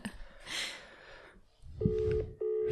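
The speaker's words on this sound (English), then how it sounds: "That's the phone ringing." On an outgoing telephone call, the ringback tone sounds as two steady electronic tone bursts after a short pause and a brief rustle, near and clear with no talk over them.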